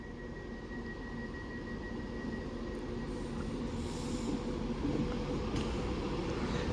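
A Class 390 electric train, unit 390-016, passes through a station with a steady, loud rumble and a wash of wheel-on-rail noise that holds constant from start to finish, with no voices.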